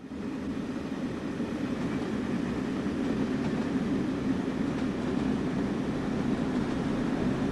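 In Train Sim World 5, a simulated train flies by with a steady, moderately quiet rumble and faint clatter, holding even for several seconds with no voices.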